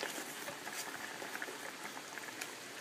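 A pot of rice and ham, a thickening boxed rice mix, boils hard on an Emberlit UL wood-burning camp stove, giving a dense, steady crackling bubble close up with no voices.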